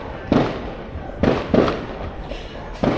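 Fireworks crack outdoors in a city neighborhood during a police standoff, four sharp bangs in an uneven sequence, moderately near and loud against a quiet street backdrop.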